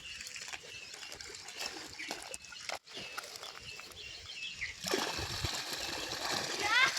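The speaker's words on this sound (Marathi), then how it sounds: "हा बघतो पडतंय पाणी" Water falling and splashing outdoors, a continuous splatter that grows louder and fuller after a brief dip midway, with voices talking over it.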